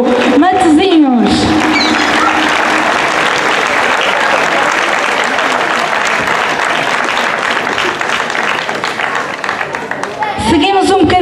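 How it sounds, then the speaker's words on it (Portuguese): Loud, sustained crowd applause greets a Portuguese folk dance group, hands clapping densely throughout, with an announcer's amplified voice heard briefly at the start and again at the end. "Um forte aplauso para o grupo folclórico da Casa do Povo de Santa Cruz do Bispo"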